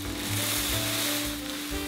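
Dry cereal flakes tipped into a pot of melted marshmallows and butter, a loud continuous sizzling rustle with bubbling and scraping while the mixture is stirred, no talking.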